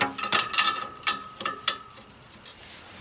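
Metallic ratcheting clicks from a wrench loosening bolts on a John Deere 4105 tractor that were treated with penetrating oil, several short bursts of clicking close by and fairly quiet, with no talking.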